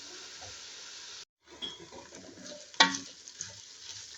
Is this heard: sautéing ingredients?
yes